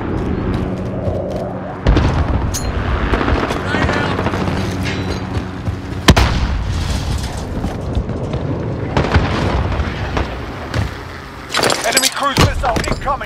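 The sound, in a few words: precision airstrike explosions in video game Call of Duty Modern Warfare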